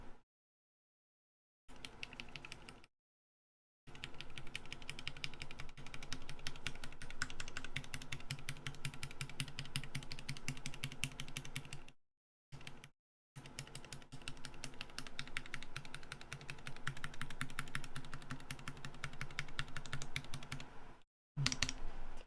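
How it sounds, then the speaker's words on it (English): Fast, steady typing on a GMMK Pro keyboard fitted with Zealios 62g switches and an aluminium plate, with sharp, close clacks in long runs and a few brief silent gaps. "It sounds sharp in a metal keyboard."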